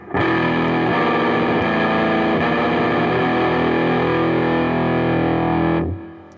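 Heavily distorted microtonal electric guitar plays a thick, sustained chord for several seconds, loud and saturated, then cuts off sharply.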